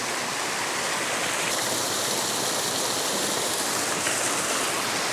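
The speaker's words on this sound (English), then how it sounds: "it's not an amazingly big cascade or waterfall or anything" A small cascade waterfall pours steadily in a continuous, dense hiss of rushing water, close and unbroken throughout with no voices.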